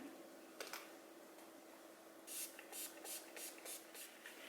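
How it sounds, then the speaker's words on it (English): A few quick hissing sprays from a bottle of finishing spray misted onto a makeup sponge, one short burst then a rapid series of spritzes, soft and close in a quiet room. "I'm going to go ahead and spray it with some Skindinavia's finishing spray"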